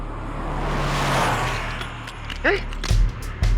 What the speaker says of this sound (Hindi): ये प्रियंका चोपड़ा की गाड़ी है।